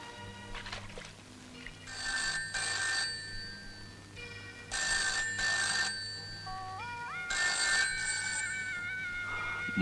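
Telephone ringback tone after a number is dialled, three or four regular ring bursts separated by pauses, moderately loud over a low hum, in a tense thriller scene with no one speaking.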